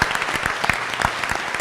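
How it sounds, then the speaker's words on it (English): Audience applause at a school board meeting, a short burst of scattered individual claps with distinct sharp hits, fairly close and clear. "Give that a round of applause."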